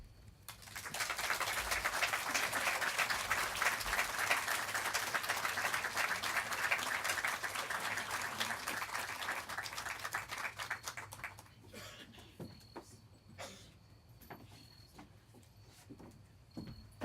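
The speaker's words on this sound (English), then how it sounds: "Another round of applause, please." Sustained audience applause at a literary feast event held in a church fills the room for about eleven seconds, steady and dense, then thins into scattered claps and small room noises.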